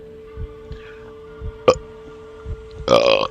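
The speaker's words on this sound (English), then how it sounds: "And I suddenly had a burping fit." A belch sounds at the end of a short stretch from the Chaos;Head visual novel, a loud, close burp following soft ticking and a steady background hum.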